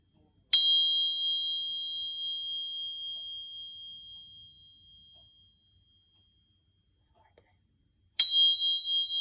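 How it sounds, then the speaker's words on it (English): A bright metallic chime from tingsha bells rings out clearly and slowly fades over several seconds, then the bells are struck again, in a kids' yoga class. "These are tincture bells."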